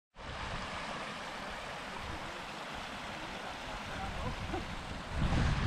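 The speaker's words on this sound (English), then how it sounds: "This little burn flows down from the wee kind of top dam bit that we're away to see" A small Scottish burn flows near the abandoned Balintore site, a steady broadband rush of running water that swells slightly louder toward the end.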